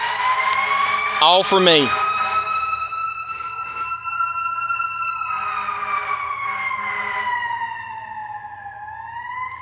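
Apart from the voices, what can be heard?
emergency vehicle siren passing on the road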